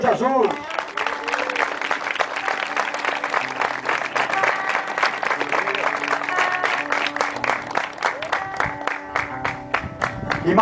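A church congregation claps steadily throughout, the applause blending with voices and sustained tones of music or singing at fairly close range.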